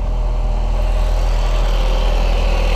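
A car engine idling steadily after starting, a loud close continuous low rumble with an even hum and no voices.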